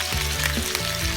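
Hard free-range chicken fries in a pan with a steady, close sizzle and crackle that holds level throughout, with no voices.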